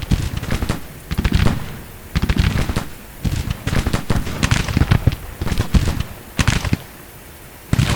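Civil War-era gunfire at a river ford in the strategy game Grand Tactician crackles in dense, irregular bursts of rolling volleys, loud and continuous with brief gaps.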